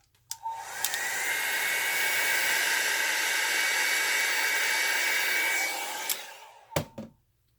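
A hair dryer switches on to dry an alcohol ink painting of multicoloured flower petals, a close, steady whooshing whine for about five seconds before clicking off.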